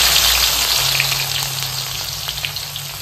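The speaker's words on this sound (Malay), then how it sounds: "goreng kami dulu." Chicken pieces fry in a hot pan with a dense, steady sizzle and crackle, heard close and fairly loud with no voices over it.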